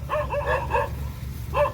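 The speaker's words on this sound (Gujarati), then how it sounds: "જેટલા ભૂંદરા એટલા કૂતરા છે" Several dogs from rival packs bark in quick bursts at moderate distance, over a low steady hum.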